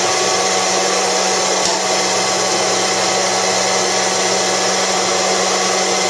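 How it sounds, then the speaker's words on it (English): A loud, steady electric fan whirs continuously, a close broadband roar with a faint hum, no voices. "I should turn off this fan."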